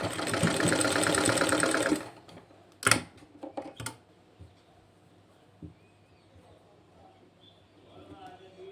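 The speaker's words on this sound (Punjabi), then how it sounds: "ਹੁਣ ਆਪਾਂ ਇਹਨੂੰ ਇਸ ਤਰ੍ਹਾਂ ਕਰਕੇ ਇਸ ਤਰ੍ਹਾਂ ਇਹਦੇ ਉੱਪਰ ਸਲਾਈ ਲਗਾਵਾਂਗੇ" A sewing machine stitching a shirt cuff runs in a fast, close, steady whir for about two seconds, then stops, leaving a few clicks and handling taps in a quiet room.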